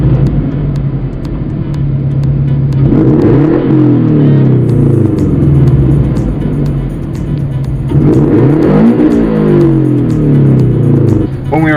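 A tuned Subaru BRZ's deep exhaust rumbles steadily, rising into two strong revs with climbing engine pitch, loud and close throughout.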